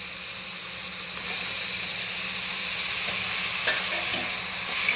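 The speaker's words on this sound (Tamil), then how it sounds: "இப்போ புதினா மல்லி போட்டுக்கிறோம்" Onions fried until crisp sizzle steadily in a pan with fresh mint and coriander leaves, being cooked for peas rice, with a constant loud hiss and occasional clinks of a spoon stirring throughout.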